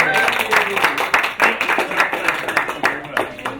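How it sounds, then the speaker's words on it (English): Lively clapping from guests at a PS Underground dinner party, close and uneven with individual claps standing out, mixed with cheerful voices and chatter. "I'd love to give David and Michael a round of applause"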